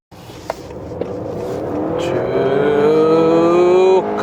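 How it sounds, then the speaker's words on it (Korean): A Honda Accord Hybrid accelerates hard onto a highway, its engine note rising steadily in pitch for several seconds beneath steady road and wind noise, close and fairly loud, then easing off near the end. "아주 강한 힘으로 가속을 해서 자유로 본선에 진입을 했고요"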